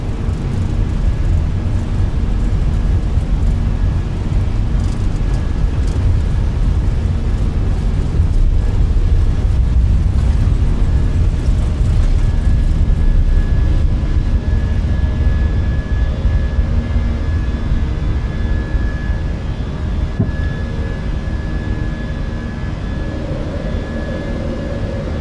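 Steady airliner engine drone while taxiing in Microsoft Flight Simulator 2020, a continuous loud low rumble with a faint whine held throughout the whole stretch.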